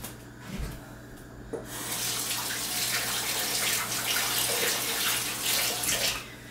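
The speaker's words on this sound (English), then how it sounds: "I'm going to rinse this spoon off real quick" Water runs steadily from a kitchen faucet as a spoon is rinsed beneath it, a broad, continuous splashing hiss that starts after a brief quieter moment and holds at a close, even level throughout.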